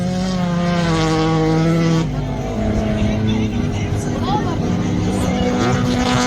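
Nikola Pechev's BMW race car engine, apparently suffering a problem, revving loudly and close with a steady droning pitch that shifts downward partway through, alone without talk.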